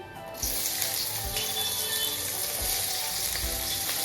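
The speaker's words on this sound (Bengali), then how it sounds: "তেলটা গরম হয়ে গেছে এখন দিয়ে দিচ্ছি পেঁয়াজ কুচি" Chopped onion dropped into hot mustard oil in a wok, a loud, steady frying hiss that starts abruptly and holds, with a few low clunks.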